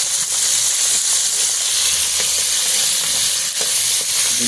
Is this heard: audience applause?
no